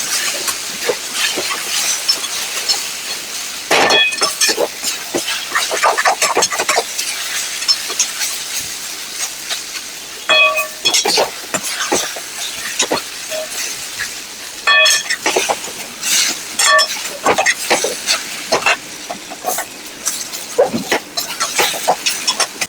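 Boiled sweet potato stir-fried in ghee in a pan makes a loud hissing sizzle broken by repeated clattering scrapes and bursts as it is turned, with no voices.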